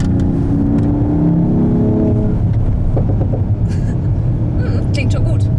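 A Mercedes-AMG GT63 S engine rumbles and burbles steadily at close range, with low revving swells and a few higher whirring notes toward the end.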